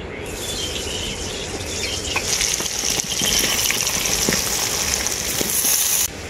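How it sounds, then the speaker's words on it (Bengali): Steady, loud sizzling of jackfruit frying in hot oil, a continuous crackling hiss with occasional pops, no voices. "ওই আলু ভাজা তেলের মধ্যেই আমি এঁচড়গুলোও ভেজে নেব।"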